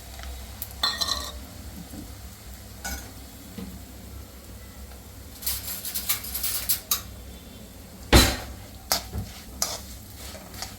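Flattened rice (poha) fries in hot oil on a lowered gas flame while it is stirred, a soft sizzle broken by bursts of scraping and a sharp metallic clink near the middle.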